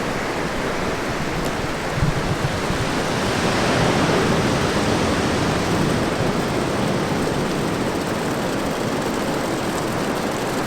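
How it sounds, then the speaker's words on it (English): A small trickling waterfall beside a sea cave on the Laguna Beach coast makes a steady, dense rushing hiss that continues without a break, loud and close, with no voices. "there's a little like sewage waterfall coming down right by it"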